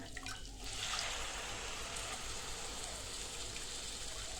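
Water pours into a pot of rice in a steady, rushing stream for several seconds, starting with a brief splash and continuing evenly, close and fairly loud.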